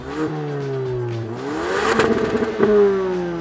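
A 2023 Ford Focus ST's 2.3-litre EcoBoost engine revs up and down through several rises in pitch, with crackling exhaust pops during the higher revs, loud and close, no voices.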